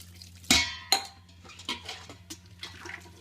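Water poured over wheat in a vessel while it is squeezed by hand, with sharp clinks and splashy knocks against the pot, a few distinct impacts followed by softer sloshing, close and moderately loud.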